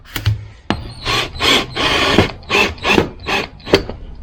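Screws being driven into the cheap plastic rear fender of an SSR pit bike: repeated short ratcheting, grinding bursts of a hand tool, close and fairly loud, with brief pauses between turns.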